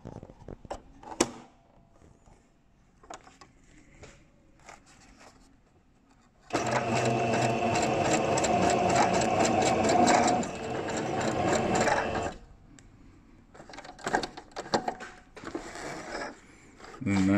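Sewing machine stitching web strapping for a car roof storage net: a steady mechanical run of about six seconds, preceded and followed by quieter clicks, rustling and handling of the fabric.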